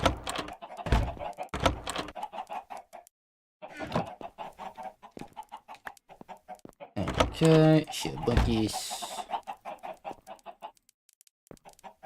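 Minecraft chickens cluck in short bursts among game clicks and thunks, while a person talks over them.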